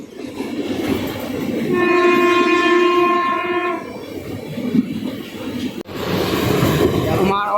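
A train rolls loudly through Kovur railway station without stopping while its horn blares in one long sustained blast, then the rumble of the wheels carries on.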